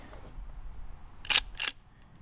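Two quick metallic clacks in succession, a Henry rifle lever being worked open and shut, crisp and close against a quiet background.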